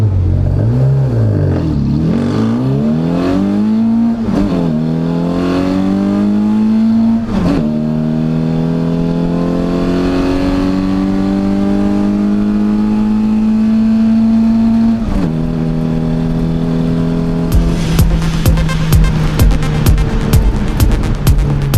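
A classic Mk1 Mini revs hard and pulls away at the Brighton speed trials, its engine climbing through rising gears with loud, close rasping, then a burst of clattering and crackle near the end.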